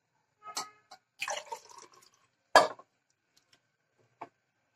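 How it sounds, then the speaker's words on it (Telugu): Water splashes into a pan in a few short bursts and drips while making tomato upma, close and fairly quiet, with pauses of near silence between pours. "ఇంకో 1/2 గ్లాస్ వాటర్ యాడ్ చేయాలండి"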